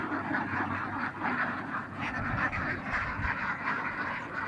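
Layer ducks on a farm with about 1,100 birds quack in a continuous, overlapping chorus at moderate distance, steady throughout and unbroken by speech.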